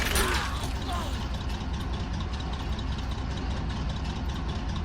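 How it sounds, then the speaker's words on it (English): Low, steady rumble of German vehicle engines idling in a Men of War: Assault Squad battle in Normandy, a dense mechanical drone with faint clanks and creaks, held at moderate level throughout. "I can still hear German engines running out there."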